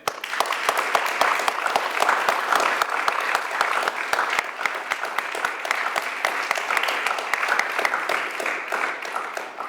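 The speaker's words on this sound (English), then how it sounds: "please join me in giving a resounding round of applause for Professor McNay" Lecture audience gives a sustained, resounding round of applause for a university professor at an institute talk, many hands clapping in a thick, steady stream with sharp individual claps standing out nearby.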